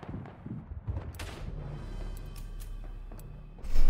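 A mortar shell lands in the WW1 shooter Verdun, a muffled distant boom and scattered gunfire leading into a louder, closer roar at the end.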